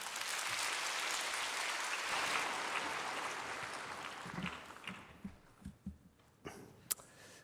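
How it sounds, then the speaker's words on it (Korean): Church congregation applauding to welcome a deacon up to give his testimony during Sunday worship: a faint, steady wash of clapping that thins out and dies away, leaving a few scattered claps and knocks. "박수로 모실까요?"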